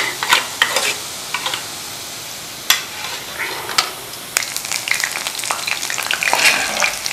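Dahi bhalla batter frying in medium-hot oil, a steady crackling sizzle with sharp pops and spatters scattered throughout, growing busier toward the end, close and moderately loud with no voices.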